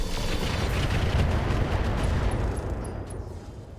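Weapons fire on a target in RogueTech, a BattleTech mech game: a dense, heavy roar of overlapping blasts and booms, loud and continuous before tailing off slightly.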